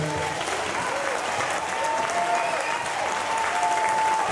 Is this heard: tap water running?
no